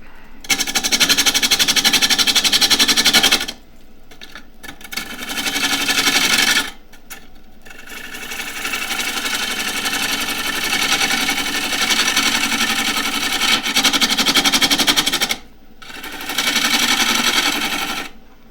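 A wood lathe spins a disc vase blank of hard, dry wood while a half-inch spindle gouge cuts it, making a rough scraping and rasping drone that repeatedly stops and restarts, close and steady, with no talking.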